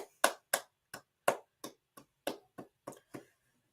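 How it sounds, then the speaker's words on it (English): Claps ring out in the Dean Smith Center basketball arena during a Duke at North Carolina game, about ten sharp, separate claps in an uneven rhythm, close and clear over a quiet background with no talk. "RJ Davis, Deanie Smith Center clapping"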